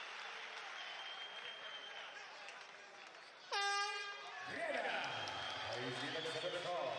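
Crowd noise at an ACB 48 mixed martial arts bout between Marcio Breno and Amirkhan Adaev: a steady roar is cut by a loud horn blast midway, then the crowd swells louder, with commentary running underneath.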